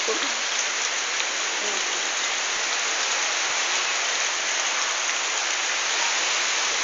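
Heavy typhoon rain from storm Falcon pours down in Bauan, Batangas, a steady, loud, dense roar of water that holds unbroken throughout with no voices.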